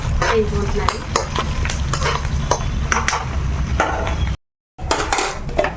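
Mustard seeds, chana dal, urad dal, dried red chillies and curry leaves sizzle in hot oil for a tempering, with repeated clinks and scrapes of a spoon against the pan close by and a brief silent gap near the end.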